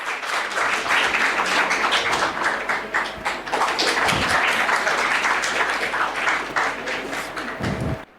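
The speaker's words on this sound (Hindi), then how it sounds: "जोरदार तालियां आपके लिए।" Audience at a youth festival quiz show breaks into sustained, loud applause for the winning team, many hands clapping densely and steadily for several seconds before it tapers off.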